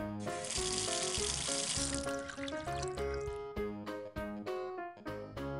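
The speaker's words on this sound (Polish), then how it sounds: "Kran." Cartoon tap water gushes into a sink as a hissing rush over upbeat background music, then fades out, leaving the music to carry on.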